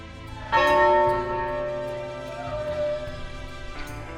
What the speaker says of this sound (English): of course the bell to summon everybody to morning mass.